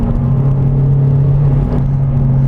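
A modified Mazdaspeed3 pulls ahead under throttle, its engine a loud, steady drone heard from inside the cabin, the pitch shifting only slightly as it goes.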